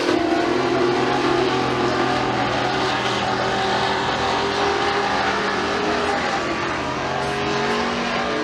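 Pure stock race cars roar around the dirt oval at McKean County Raceway during a heat race, a dense continuous engine drone with shifting revs and no clear gaps.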